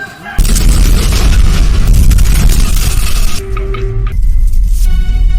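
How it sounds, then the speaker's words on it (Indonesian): A loud, booming blast of a station exploding erupts and rumbles on for several seconds, with crackling debris, then fades into quieter ringing tones. "stasiun itu meledak"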